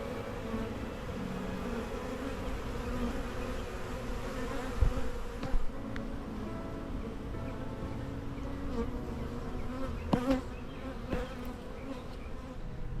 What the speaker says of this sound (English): Just set this out and the bees are all over it.